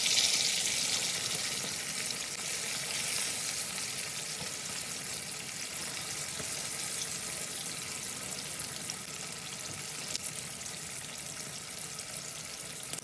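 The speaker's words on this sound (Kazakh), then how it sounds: "тек қана бір жағы қызарғанша қуырып аламыз" Carp fish frying in oil in a pan over medium heat gives a steady, close, bright sizzle and crackle that holds evenly for several seconds with no voices.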